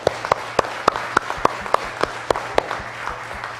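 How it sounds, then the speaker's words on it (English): Audience applause after a presentation at a small business and research event: a steady wash of many hands clapping with sharp individual claps standing out, moderately loud throughout. "So join me in thanking them with a round of applause"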